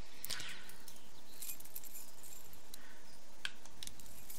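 Keys picked up in The Walking Dead game, a quick bright jingle near the start and another short clink later over quiet ambient background.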